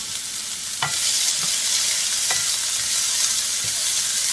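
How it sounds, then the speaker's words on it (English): Garlic and carrots stir-fry in a hot pan, a loud, continuous hiss of sizzling punctuated by a few sharp spatula scrapes and clicks. "We're going to cook this for a little bit until the carrots are, a little tender."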